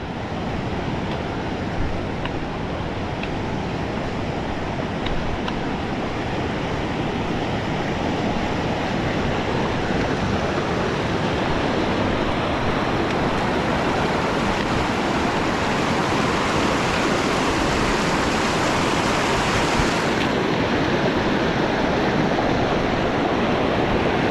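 A small creek in a river valley in western Canada flows with a loud, constant, close rushing and burbling that holds steady throughout, with no voices over it.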